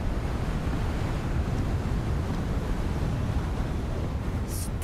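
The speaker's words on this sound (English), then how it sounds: "Sure is windy." Steady wind and ocean surf roar in the video game Hogwarts Legacy, a dense, unbroken wash of rushing air and crashing waves with no talk over it.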